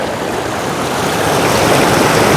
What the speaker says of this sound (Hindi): और ये है जी सामने आबशार।